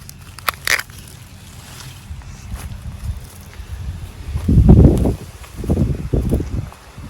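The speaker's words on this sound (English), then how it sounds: "Whoa, it's getting windy." Gusty wind rushes and buffets outdoors, swelling into stronger bursts toward the end, with faint rustling underneath.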